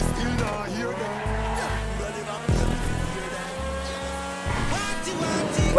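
A race car in GTA Online engine whines and rises through a dangerous turn while tires squeal in bursts. A voice speaks over the game sound.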